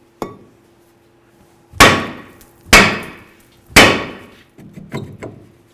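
Sharp metallic hammer strikes on a Chevy S-10 brake rotor being removed: one light tap, then three loud ringing blows at roughly one-second intervals, followed by a few softer knocks, close by in a quiet garage.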